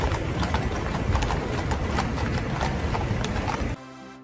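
Mounted police horse walking, hooves clip-clopping in a steady brisk rhythm, close and clear, stopping abruptly near the end, no voices.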